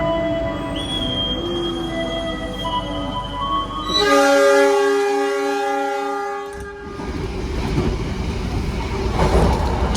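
The Mutiara Selatan passenger train at Jombang station sounds a long, loud multi-tone horn after a quieter stretch of squealing wheels, followed by rumbling rail noise as the train gets under way.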